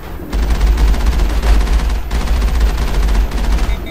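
Rapid automatic gunfire in the Mass Effect video game, a dense continuous burst of loud shots with a heavy low thump, alone without talk.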